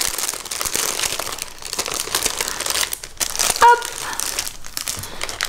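Crinkly plastic wrapping of a small gift package of candies being torn open at close range, a steady crackle and rustle with a short sharper rip near the middle and a brief spoken word.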